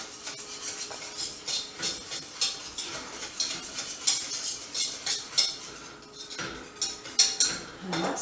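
A spoon stirs a cheddar cheese sauce in a pan for cauliflower cheese, giving repeated close scraping and clinking against the metal in a steady rhythm with no talking.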